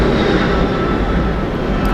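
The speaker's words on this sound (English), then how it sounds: "That right there is a Boeing 717." A Boeing 717 airliner at Atlanta Hartsfield-Jackson International Airport makes a loud, steady broadband jet roar that fills the whole moment without any variation.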